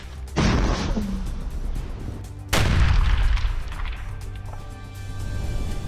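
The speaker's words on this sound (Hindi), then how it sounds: "तस्वीरें खेरसोन की हैं, जहां दिन रात गोला बारूद बरस रहा है।" Two heavy booming blasts of artillery fire in Kherson, Ukraine, during the Russia-Ukraine war, each rolling out into a long rumbling decay, with fainter distant gunfire cracks scattered between.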